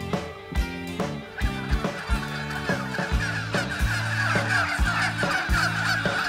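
A flock of Christmas turkeys on a farm in the Sarthe countryside gobbles and calls steadily throughout, mixed under rhythmic background music with a repeating bass pattern.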